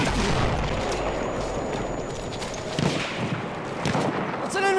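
Enemy machine gun fire in the Battlefield 1 video game, a dense continuous rattle of battlefield gunfire and booms with a sharp burst near the end, loud and sustained under a shouting voice.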